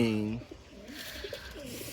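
A fancy Lotan pigeon coos in soft, rolling low calls, close by. A brief voice is heard at the start.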